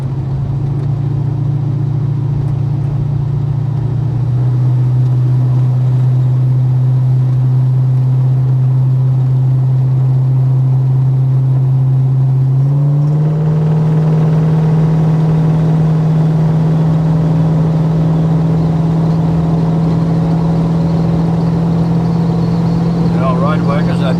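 An old Holden HK car drives through a flooded stretch of road, its engine humming steadily and shifting pitch as it moves, with continuous rushing, splashing water noise around it.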